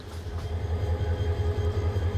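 Jayantika Express passenger train running from Dhaka toward Sreemangal, a steady low rumble of wheels on rails heard from inside a carriage, continuous and fairly loud with no voices.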